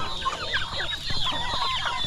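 Poultry at a farm pen, geese, turkeys and chicks feeding on yellow corn together, give a steady chorus of overlapping clucks and chirps, close and continuous with no talk.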